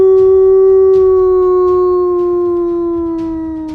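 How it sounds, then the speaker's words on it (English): A loud, sustained wolf or dog howl used as a game sound effect in a tabletop roleplaying session, one long steady tone slowly sliding downward and fading slightly, with no speech over it. "this howling seems to get closer"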